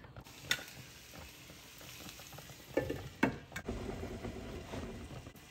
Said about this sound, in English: So I'm gonna mix it together, and then I'll cover it till the onion gets translucent.